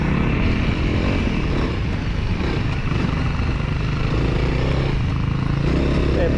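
Honda CRF300L dual-sport motorcycle ridden on a single-track dirt trail, its engine a steady loud drone throughout with rough broadband wind and terrain noise, no clear pauses.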